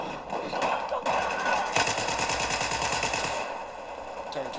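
Rapid automatic gunfire in the video game Battlefield, sustained bursts of shots with thuds, loud and close, with some background voice chatter in the mix.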